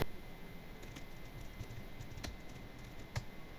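Keys clatter on a computer keyboard while a Python command is entered in a Windows setup, a steady run of light taps with a few sharper clicks, close and quiet, with no talk.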